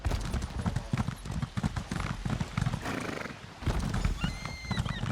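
Horse hooves clip-clop rapidly and steadily, with a brief pause, then resume alongside a high neigh near the end, in the video game Elder Scrolls Online.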